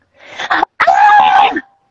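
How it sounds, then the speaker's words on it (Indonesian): A single very loud scream of anger from one person, a short burst, a brief break, then a long sustained shriek that fades at the end. "berteriak dengan sangat kencang"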